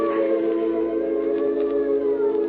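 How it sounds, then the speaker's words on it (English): A steady wailing ambulance siren from an old-time radio detective drama, loud and continuous with narrow, lo-fi tone and no talking. "Look, George, it's an ambulance."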